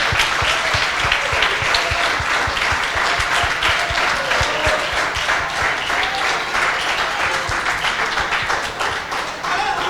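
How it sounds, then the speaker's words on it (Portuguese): A church congregation claps loudly and steadily in a Sunday evening service, a dense rhythmic applause that carries on for the full stretch and eases off slightly near the end. A faint voice sits under the clapping. "Aplaudem Ele com toda a força, com toda a alegria que é no seu coração aqui nesta noite"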